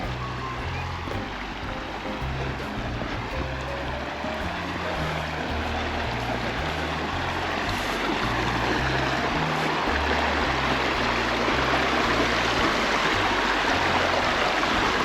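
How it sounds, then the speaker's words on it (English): Water of Whitemud Creek runs and babbles steadily nearby near a beaver dam, a constant rushing flow with no voices. "Let's just give you a little babbling brook ASMR."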